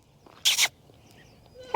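A young bottle-raised house goat gives a short, bright bleat, then a second call starts at the very end, over a quiet background.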